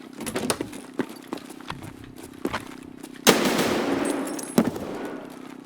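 Full-auto MP7 gunfire in a video game, with scattered single shots early on, then a loud sustained burst of rapid fire in the foreground.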